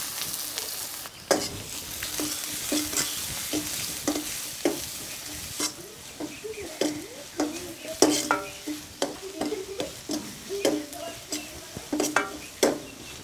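Chopped onions hit hot oil in a Chinese kadai, giving a steady sizzle broken by repeated sharp scrapes and clinks of stirring, close and lively.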